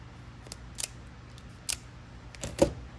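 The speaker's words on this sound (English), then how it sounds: "We can always trim these wires down as we need to." A few sharp, separate snips as replacement cord wires are trimmed during repair of an Oreck XL 3500HH upright vacuum, close up, with quiet gaps between the cuts.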